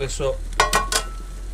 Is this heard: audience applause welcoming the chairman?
no